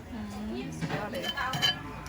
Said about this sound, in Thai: ตำเสร็จแล้วก็ล้างจาน